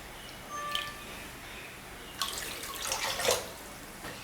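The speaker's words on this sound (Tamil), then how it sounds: "இப்போ இது கூடவே 2 கப் அளவுக்கு தண்ணி சேர்த்துக்கிறேன்" Water poured from a cup into sugar in a cooking pan for halwa: a soft splashing pour trickles in briefly, then a louder, fuller gush of liquid follows, fairly quiet overall with no talking.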